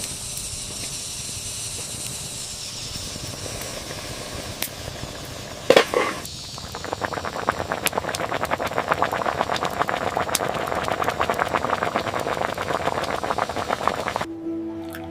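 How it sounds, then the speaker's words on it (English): Soft, steady swishing and sloshing of rice stirred in water, close and continuous, after a short quieter stretch and a sharp clatter. "Gentle swishing sound of rice in water."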